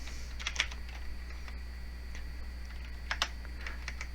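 Keys clacking on a computer keyboard while C++ code is typed, a few quick bursts of taps with short pauses, close and fairly quiet over a steady low hum.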